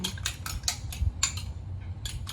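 A fork or similar utensil beats eggs in a bowl for ginisang pechay with egg, making quick rhythmic clinks in short bursts with brief pauses, close and fairly quiet.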